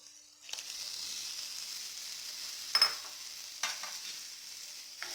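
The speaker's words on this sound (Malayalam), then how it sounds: "ഇനി ചക്കക്കുരു വേവിച്ചത് ബാക്കി വെള്ളത്തോടു കൂടി ഇതിലേക്ക് ഒഴിച്ചു കൊടുക്കാം." Boiled jackfruit seeds and their cooking water hit a hot pan, setting off a sudden loud sizzle that keeps hissing steadily, with a few stirring scrapes breaking through.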